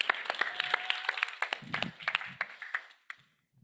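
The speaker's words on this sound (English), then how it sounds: "Let's give a round of applause for Sampada." An audience at a youth food lab final event claps in a short burst of applause that is dense at first and then thins to scattered claps before falling silent. A voice is briefly heard within it.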